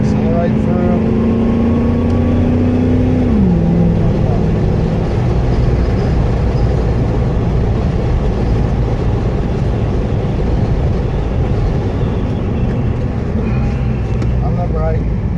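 Race car at Wakefield Park accelerating hard on the circuit, a loud, close, continuous engine roar with a rising whine early on, under a voice talking throughout.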